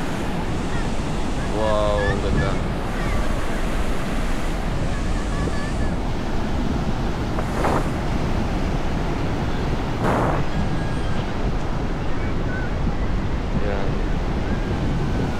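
Strong wind and rough sea waves at Jesolo beach in Italy, heard as a loud, constant rush of surf with wind buffeting the microphone, and a person speaking over it now and then.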